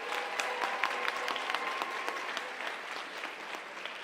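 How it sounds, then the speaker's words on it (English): Sustained audience applause at a national Bible quiz finals closing ceremony honoring contestants, dense steady clapping from a large crowd with a few sharper nearby claps, no voices. "One more round of applause"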